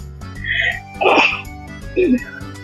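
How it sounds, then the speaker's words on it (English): A person lets out a couple of short, loud sneeze-like bursts close to the microphone, with a faint steady background hum underneath. "I gotta sneeze now"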